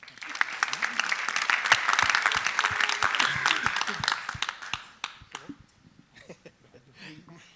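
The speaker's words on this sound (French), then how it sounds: "S'il vous plaît, des applaudissements." A startup pitch audience claps for the next presenter, dense, lively applause that swells for several seconds, then thins to scattered claps as a voice begins speaking.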